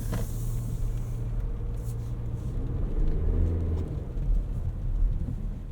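Cabin hum of a 2024 Toyota Grand Highlander Limited AWD with the 2.4 turbo and 8-speed automatic, cruising along as a steady low engine and road rumble with no talk over it.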